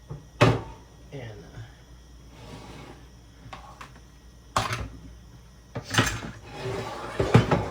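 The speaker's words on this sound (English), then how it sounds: "Going to move my skillet so I can drain my spaghetti or my macaroni" A skillet of macaroni is shifted and set down in a home kitchen, giving a few brief metallic clanks and scrapes of cookware against the stovetop, with quiet speech between the knocks.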